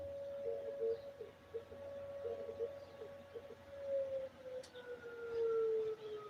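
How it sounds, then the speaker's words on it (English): A river flood warning siren drones steadily in the distance, a faint sustained tone holding across the whole stretch with outdoor ambience and an occasional bird in the background. "it might just be the siren, the warning siren for if the river is overflowing"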